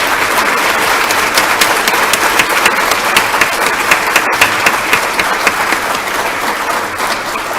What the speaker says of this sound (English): Let's have a round of applause for these students.